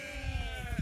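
A single short sheep bleat sounds close by at a farm feeder where one sheep is stuck, with no talk over it.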